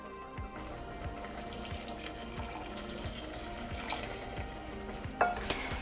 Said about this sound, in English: we want to add in between half a cup and a cup of water